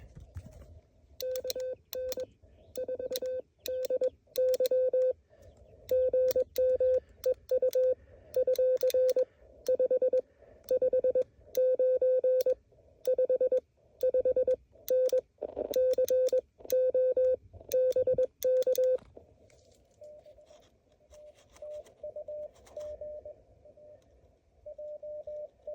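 A Morse code signal on an amateur ham radio sounds as a steady single tone keyed in rapid dots and dashes over faint static, with a weaker, fainter signal following near the end.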